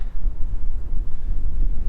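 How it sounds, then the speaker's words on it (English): Steady, low-pitched wind at the Crans-Montana ski resort in the Swiss Alps buffets a microphone, a continuous rumbling roar that swells and dips slightly throughout. "It's very windy here today."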